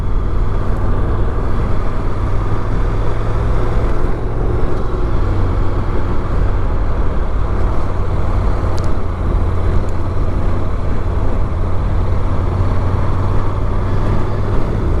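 A Honda NC750X motorcycle's engine drones steadily as it is ridden, a continuous low hum mixed with wind rush that holds a constant level throughout.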